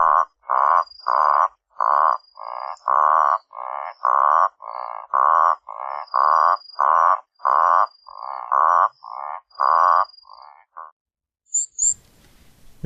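Toad at a garden pond croaking in a long run of loud, close, evenly spaced pulses, about twenty in a row, then silence and a brief rustle at the end.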